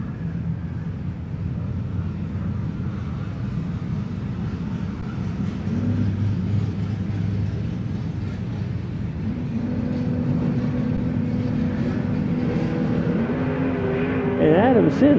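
A 1970 Camaro and a 1970 Chevelle sit at a drag strip, steady engine rumble building to louder launch revs near the end, with a voice talking over the noise.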